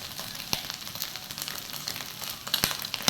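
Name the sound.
tengra fish frying in a pan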